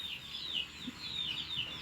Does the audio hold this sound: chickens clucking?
yes